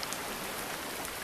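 Soft, steady rain patters in a VR fishing game scene at Cannon Beach, Oregon, near Haystack Rock, a faint continuous hiss of drops with no talking.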